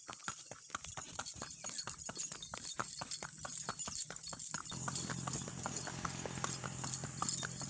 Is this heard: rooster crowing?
no